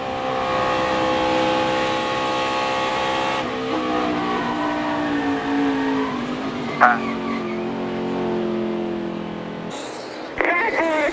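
A NASCAR race car engine heard from inside the car, loud sustained roar with throttle lifting and reapplying, brief tire squeal and a sharp knock, then the engine pulling again near the end.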